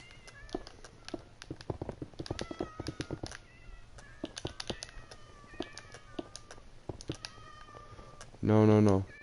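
Cats meow repeatedly in a video game set around a Mustang, high chirpy calls scattered over quick keyboard tapping, ending in one loud, drawn-out meow up close.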